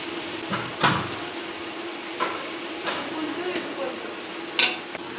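Onions with garlic paste sizzle steadily in a pan during chicken cooking, broken by a few sharp scrapes and clinks of a spoon stirring against the metal.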